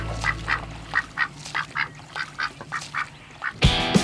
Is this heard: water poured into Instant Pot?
no